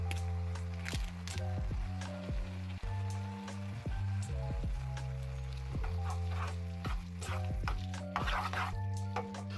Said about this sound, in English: just giving it an extra little fry in a slight amount of liquid as recommended